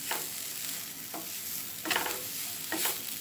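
Beetroot sautéing with salt in a pan for thuvaiyal: a steady soft sizzle with a few distinct scraping stirs of a spoon spaced across the moment, close by and with no talking.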